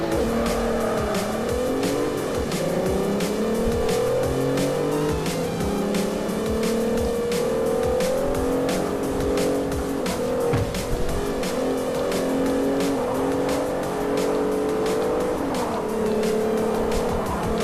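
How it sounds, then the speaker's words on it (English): Racing cars in the Forza Motorsport 4 demo roar continuously, engine pitch rising and falling through gear shifts, with tire squeal and rhythmic ticking, loud and steady throughout with no talk. "Car sounds, I think, are really good."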